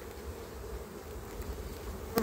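A well-developed honeybee colony hums with a dense, steady buzz of many bees close by during a hive inspection, faint but continuous.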